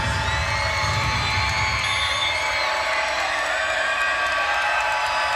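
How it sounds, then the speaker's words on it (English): A college volleyball crowd at an NC State versus SMU match roars loudly and continuously, a dense wall of cheering and shouting in an arena with a few high whoops, steady in volume throughout. "Crowd getting loud, hoping to back up the Mustangs and force an error."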